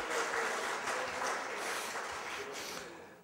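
Audience applause at an anniversary ceremony, continuous dense clapping from a large hall crowd that slowly thins toward the end.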